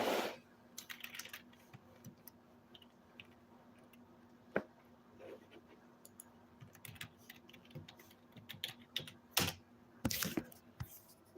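Soft keyboard typing comes in scattered bursts of quick keystrokes, close and fairly quiet, with a few sharper knocks and handling noises and long quiet stretches between.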